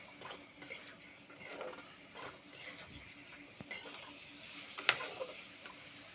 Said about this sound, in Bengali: দেখো মশলাটাও প্রায় কষানো হয়ে গেছে